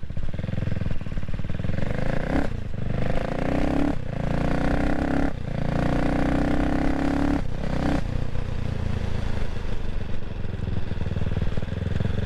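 A single-cylinder CCM Spitfire Six motorcycle is ridden, its engine thumping loud and close with repeated rev rises and gear changes, then settling into a steady drone, with wind noise throughout and no talking.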